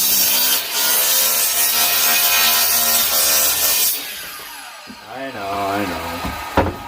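Wood is cut by hand for a simple tabletop, a loud steady rasping that runs for several seconds and then stops, followed by quieter handling and someone talking.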